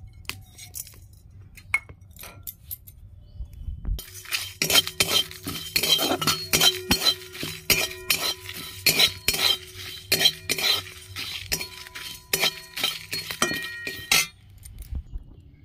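Whole cumin, coriander seeds and three dried chillies dry-roasting in a hot wok. After a quiet start, a close, busy run of scraping and metallic clinks follows as the spices are stirred with a utensil, and no one speaks.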